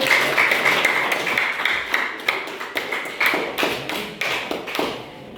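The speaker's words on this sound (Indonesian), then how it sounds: "tepuk tangan dulu" Students applaud in a classroom after a group closes its persuasive-speech presentation. The clapping is loud and near, with distinct sharp claps over a steady patter that gradually thins and fades toward the end.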